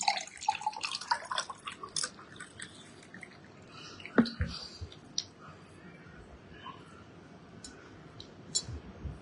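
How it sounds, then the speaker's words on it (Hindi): Water is poured into a mix of about ten to twelve drops of tulsi extract, giving faint dripping, trickling and light clicking sounds that are strongest near the start, with a sharper splash midway and quieter drips afterwards. "और अब इसमें पानी का मिश्रण कर रहा हूं।"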